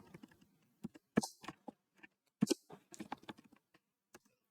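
Typing on a computer keyboard, close and clear, with scattered single keystrokes and short irregular bursts of clicks separated by quiet pauses.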